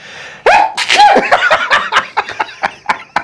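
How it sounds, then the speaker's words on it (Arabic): A single sudden, loud sneeze bursts out while eating spicy peanut noodles with honey, followed by a run of close-up laughter and snickering. "ايه العطسه دي؟"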